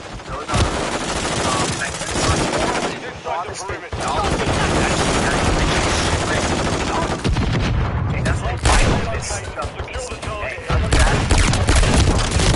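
Dense, loud gunfire from the video game Modern Warfare 3, rapid automatic bursts and booms running almost continuously, with a voice talking over the shooting.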